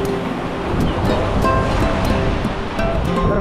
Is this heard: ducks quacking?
no